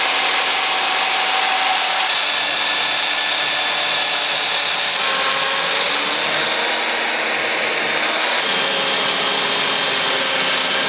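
A mortiser chisels a wide mortise into very dry wood in a home workshop, giving a continuous whirring, grinding drone that stays steady and close throughout with slight shifts in pitch.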